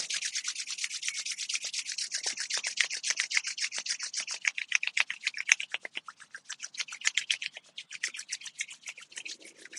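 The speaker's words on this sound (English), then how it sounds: "And rub your hands together." Palms rub briskly together during a yoga practice, making a fast, even run of dry, close swishing strokes that slow and loosen toward the end.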